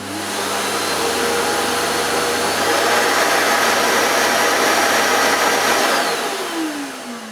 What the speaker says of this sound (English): I'm just going to turn it on and that should answer your question